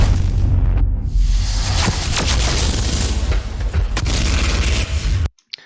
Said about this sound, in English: you can see the individual shells bursting